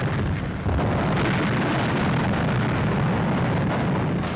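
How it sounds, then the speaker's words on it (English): German shore batteries fire artillery at Elba as French forces approach, a continuous rumbling roar of heavy gunfire and blasts, loud and dense throughout with no talk. "German batteries opened fire the moment the French hove into sight"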